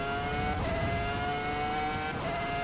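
A Volvo S60R engine in a racing simulator game holds a steady, high, whining drone with shifting tonal pitch during a lap, continuous and even in level, with no talk over it.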